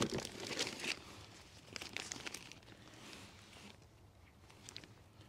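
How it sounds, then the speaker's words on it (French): Packaging crinkles and tears as a received parcel of Jeep parts, including gaskets, is opened, with bursts of rustling plastic and paper crumpling close by, fading to quieter handling. "laisse-moi ouvrir ce qu'on a reçu"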